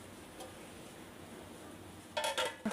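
A metal lid set onto a pot of simmering beef bone broth in a home kitchen, giving a brief clatter of clinks near the end, then a small knock, over a low steady hiss.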